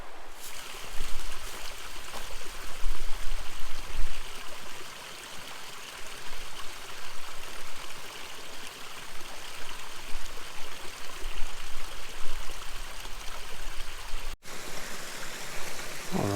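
A small creek flows along a trail by the Buffalo River in Arkansas, with steady close rushing and babbling water throughout and no voices.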